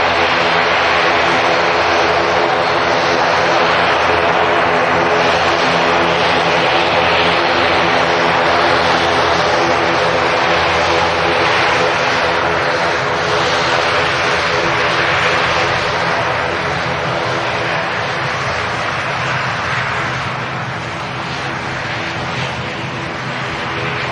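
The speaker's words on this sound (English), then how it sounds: "Air Lingus ATR 72 heading off to Dublin" An Aer Lingus ATR 72 turboprop airliner takes off from Manchester Airport with a loud, steady propeller drone and engine roar that holds for most of the stretch, then eases slightly toward the end, with no talk over it.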